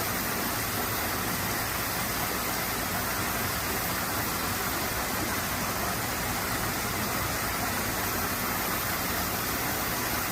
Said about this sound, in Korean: 이제 올라가는 길에 시냇물을 찍은 건데 아주 깨끗하고 좋죠. 시원한 물소리 한번 들어보세요.